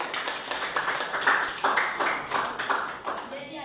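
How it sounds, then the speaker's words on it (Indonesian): A classroom of pupils claps hands in loose, uneven rhythm, a run of close, sharp claps rising and falling over a few seconds, with faint voices underneath. "Berikan tepuk tangan dulu."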